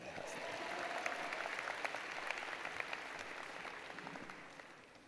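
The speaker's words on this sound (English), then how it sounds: "We're going to give them a round of applause anyway." An audience at a spring university commencement ceremony applauds, a steady, distant wash of many hands clapping that stays even and fairly faint for about five seconds.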